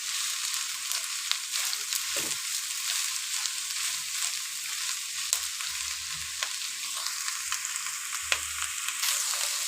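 Chilli bajji being mixed in hot oil with a ladle, a dense, continuous frying sizzle up close with faint intermittent ladle scrapes and low bumps underneath.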